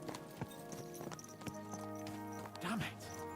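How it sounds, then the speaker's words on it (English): Horse hooves clip-clop at a quick pace in a medieval video game, a rhythmic run of hoofbeats with a brief neigh near the end, set under a man's speech and game sounds. "Let's really spur these horses on, eh?"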